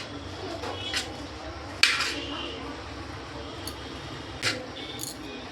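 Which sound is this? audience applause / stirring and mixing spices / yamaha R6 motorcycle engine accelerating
stirring and mixing spices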